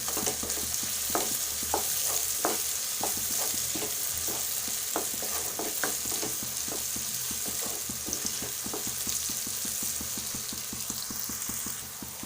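Turmeric frying in a pan for a spicy egg curry, giving a steady close sizzle with frequent light scraping and stirring taps throughout.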